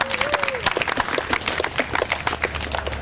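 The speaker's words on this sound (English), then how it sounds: "You guys give them a round of applause." An outdoor crowd at a peanut dedication for Aunt Katie's Garden claps in a steady, uneven patter of applause, close and fairly loud, with a brief cheer or whistle at the start.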